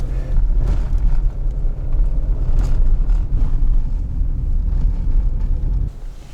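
Car driving along a road through a national park area in Quebec, steady loud low rumble of engine and tire noise from inside, continuous throughout.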